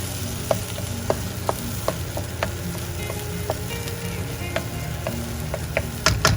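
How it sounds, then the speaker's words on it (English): Mutter peas being stirred into frying paneer masala in a pan, a steady sizzle punctuated by regular spoon clicks and scrapes against the pan, with a louder clatter at the end. "So the first thing I want to do is add mutter to it, coat it nicely with this."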